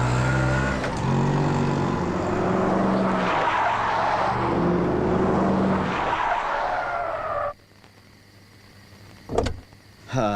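An auto rickshaw pulls up in a comedy film scene with a long, loud tire skid and engine noise lasting several seconds. It cuts abruptly to near quiet, followed by a couple of brief thuds.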